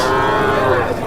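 A cow at a busy cattle market in Tirupattur district gives a loud, close moo that holds for about a second.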